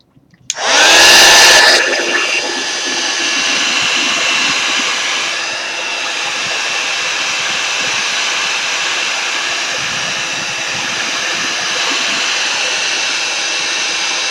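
Heat tool blowing hot air to dry Distress Oxide ink spray on paper: a loud, steady whooshing hum switches on after a brief click and runs unbroken to the end, alone without talk.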